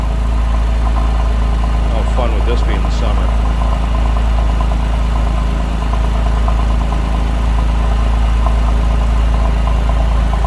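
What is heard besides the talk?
Porsche 911 engine idling exhaust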